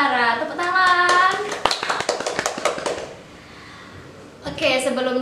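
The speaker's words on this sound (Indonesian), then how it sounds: "Kita sambut, ini dia Ketua Kopma Dewantara. Tepuk tangan." A short burst of scattered hand claps from a small group welcoming the Kopma Dewantara chairman, sharp and close, breaking into a few sparse claps before a voice starts talking at the end; talk also precedes the clapping.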